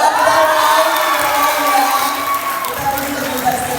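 Crowd at a Bali meet-and-greet event cheering and applauding for Stefan, a loud, sustained wash of clapping and shouts filling the whole moment, with voices mixed in.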